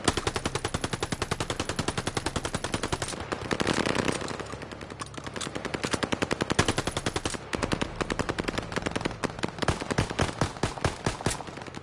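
Sustained automatic gunfire fills a shooting video game, fast rattling machine-gun bursts with brief pauses between strings, loud and close throughout with no voices.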